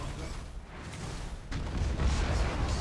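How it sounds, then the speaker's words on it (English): Torpedo impacts strike an enemy ship in the space battle game Battlefleet Gothic Armada 2, a rumbling run of heavy booms that swells louder near the end beneath continuous low game noise. "the torpedoes did not connect as well as I would have liked, but still really good damage"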